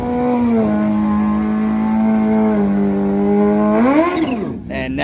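A turbocharged bagger motorcycle at full throttle on a racetrack, its steady engine drone climbing in pitch as it pulls through the gears, then a sharp rise and drop near the end, loud and close.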